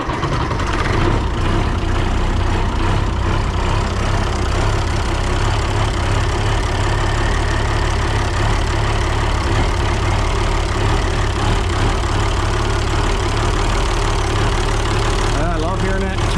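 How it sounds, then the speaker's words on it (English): A 1955 Oliver tractor with a turbocharged engine runs steadily at idle while seeding wheat, a loud, continuous low rumble with the turbo whine close by throughout, ending with a brief shift near the end. "I love hearing that turbo spool up."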